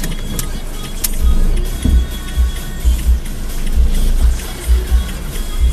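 A car turns around to park, its engine and tyre rumble swelling and easing in uneven low thuds, with a couple of light clicks and jingles inside the cabin and no voices.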